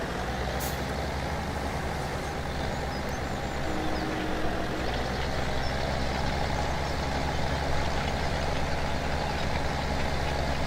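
A tractor pulling a cultivator across a field in Farming Simulator 17 hums with a steady, droning diesel engine, loud and constant with little variation.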